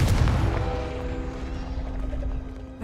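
Confringo fire spell cast in a wizarding video game: a heavy burst of impact at the start fades into a rumbling, crackling tail with a faint ringing tone, loud and close, no speech.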